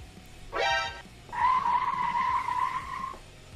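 A car tire squeal sound effect: a short, sharp screech, then a longer sustained skid whine that holds steady before cutting off.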